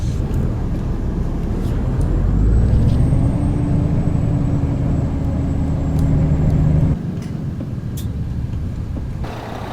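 A semi truck idles and rumbles close by while backing up to hook onto a trailer, a steady low engine drone that swells and shifts pitch midway before dropping to a quieter idle near the end.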